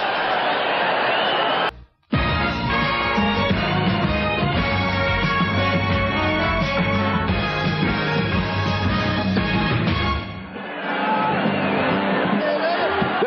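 Broad stadium crowd roar at the Orange Bowl during a night NFL game between the New England Patriots and Miami Dolphins, a steady wash of cheering and murmur under music, with a brief dropout near the start.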